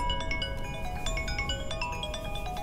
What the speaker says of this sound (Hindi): ये देख, मैसेज की घंटी, आ गया नंबर।